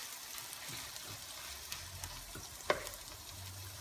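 Beef and chicken sauté with tomatoes in a pot for pochero. The frying hiss is soft and steady and sounds somewhat distant, with light stirring movements and one sharp click partway through.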